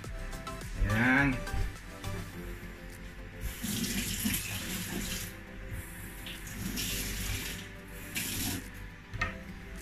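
Water runs from a kitchen sink tap during washing up, a steady splashing gush throughout. A brief voice sounds near the start.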